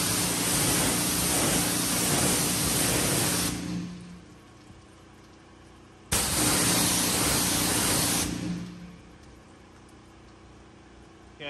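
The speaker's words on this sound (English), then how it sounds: "we'll rinse this off first" A pressurized rinse water spray hisses loudly on a car panel in two long bursts of a few seconds each, separated by a quiet pause.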